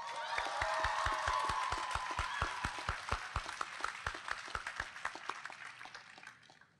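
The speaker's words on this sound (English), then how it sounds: "Let us give them a big round of applause." Audience applause for graduates' families at a 2016 UCLA chemistry and biochemistry commencement ceremony, a dense burst of clapping with sharp individual claps standing out, tapering off toward the end.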